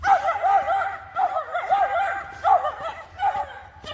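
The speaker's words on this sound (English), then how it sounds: "Yappy dog action." A small yappy dog barks in quick, high-pitched bursts and yips. The barks are fairly close and come in short clusters with brief pauses between them.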